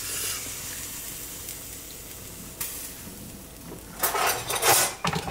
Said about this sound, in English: taking the lid off to see the texture and the situation inside